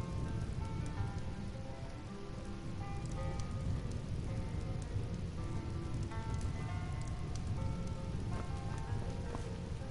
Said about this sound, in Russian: А звук огня, и вот он сзади горит.